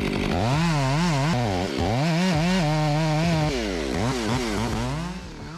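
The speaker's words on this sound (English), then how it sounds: "With an advanced chainsaw designed to handle ancient pine trees, the saw easily moves through dense wood" A big chainsaw cuts through dense old pine, its engine loud and close, rising and falling in pitch over and over as it bites and strains through the wood.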